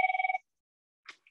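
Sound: phone ringing

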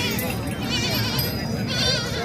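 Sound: goat bleating at livestock market

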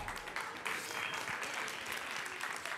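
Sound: audience applause

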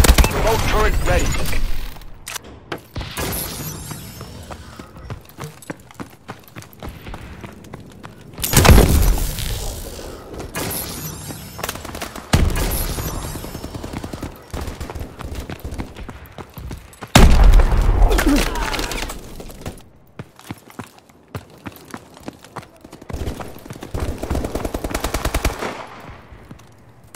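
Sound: remote turret machine gun fire in a video game

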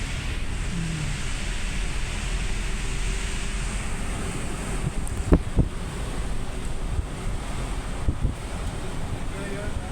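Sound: wind and rough sea waves at Kondivali beach

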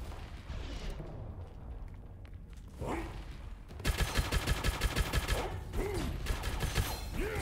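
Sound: grenades and gunfire in Gunfire Reborn video game

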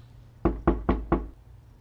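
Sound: knocking on a door

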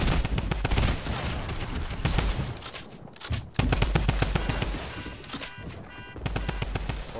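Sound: gunfire from a video game, Fortnite

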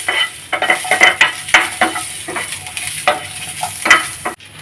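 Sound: ingredients being stirred and roasted in a pan

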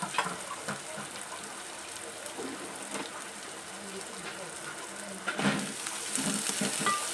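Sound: onion sautéing with green chillies in a pan

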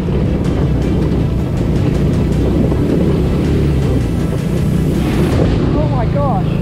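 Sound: Amazon mini Jeep driving through deep water puddle

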